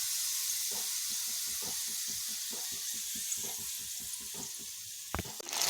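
Peanuts and chana dal fry in hot oil with a steady, loud sizzling hiss punctuated by rhythmic ticking and stirring taps, close up, ending in a sharper clatter.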